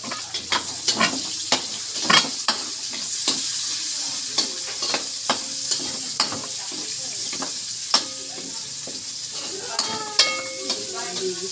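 Chopped onions sautéing in a frying pan for chicken butter mushroom, a steady sizzle and hiss with repeated sharp clinks and scrapes of a utensil stirring against the pan, fairly close, with no talking.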